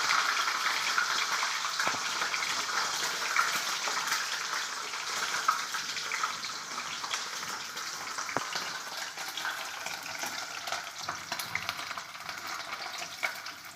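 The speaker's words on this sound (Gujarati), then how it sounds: "તેલ ગરમ થઈ ગયું છે તો એમાં પનીર એડ કરી ફ્રાય કરી લઈએ।" Paneer cubes sizzle steadily in hot oil in a home kitchen pan, a continuous bright hiss with scattered pops and crackles, close and even in loudness with no talking.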